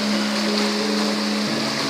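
Rushing water from the Manikmoyo waterfall at Girimanik, Slogohimo, Wonogiri, a steady broadband roar with a low hum running beneath it, loud and continuous throughout with no voices.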